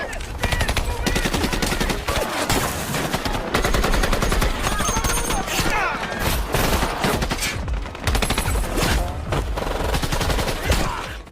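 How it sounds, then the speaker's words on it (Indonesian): Sustained automatic gunfire rattles through a film shootout between soldiers and terrorists, dense rapid bursts with brief gaps, loud and close throughout, with narration in Indonesian running over the shots. "posisi mereka langsung ketahuan dan baku tembak pun terjadi"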